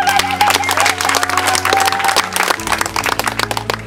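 Audience at a political rally in Yombo Vituka ward breaks into brisk, dense clapping, loud and close, with a sustained musical tone underneath that drops away partway through.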